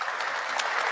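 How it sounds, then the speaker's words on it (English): A studio audience breaks into a short, even burst of applause for an MC, dense clapping at steady volume with no talk. "Round of applause to you, man."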